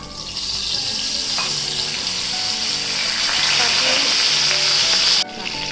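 Turmeric and Kashmiri chili powder sizzle loudly and steadily in a hot pan after a splash of water is added while making Maharashtrian misal, then the hiss cuts off abruptly near the end.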